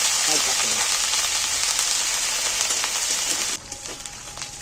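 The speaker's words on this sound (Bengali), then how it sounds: "বাটাটা আমি দিয়ে দিচ্ছি একটু ভেজে নেব" Ginger-garlic paste frying in hot oil for an egg curry, a loud, dense sizzle that hisses steadily, then drops abruptly to a quieter crackle near the end.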